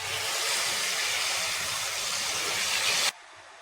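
Tomatoes hit hot oil in a pan for a raw banana and tomato fry, raising a loud, dense, steady sizzle that runs for about three seconds and then cuts off abruptly to near quiet.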